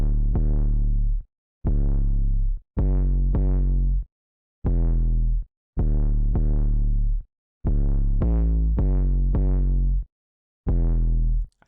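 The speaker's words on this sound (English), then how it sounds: "we got this 808 called Bodak" An 808 bass sample called Bodak in an FL Studio trap beat, playing a melodic pattern of deep, booming sustained notes in repeated phrases separated by short gaps, loud and heavy.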